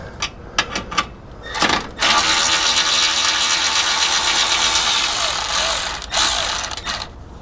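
A hand ratchet works loose a bracket bolt on a truck during a lift kit install, giving a sustained rapid clicking run for several seconds after a few separate knocks and clicks.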